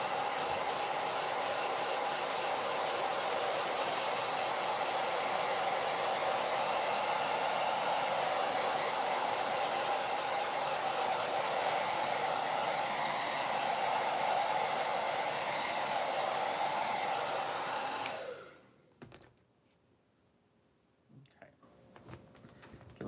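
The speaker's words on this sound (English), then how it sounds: "Again, I'm moving the hairdryer around, keeping it moving." A hair dryer blows a steady, close, airy roar over puppet fur for nearly twenty seconds, then switches off, leaving near silence with a few faint handling noises.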